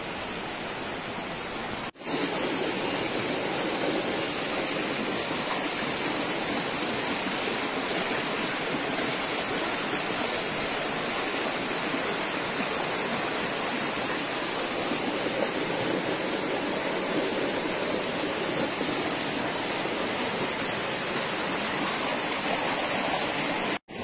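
A small mountain stream at a river's headwaters rushes over large boulders, a dense, steady roar of water that stays loud and even throughout, with no voices.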